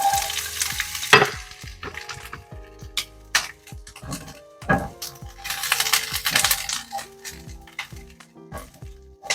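Diced onions hitting hot avocado oil in a pan, loud crackling sizzle with repeated metallic clinks and scrapes of a utensil stirring, close and busy, no talking over it.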